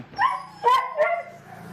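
A neighbour's dog gives three short, sharp barks close by, spaced about half a second apart, with no one talking over them.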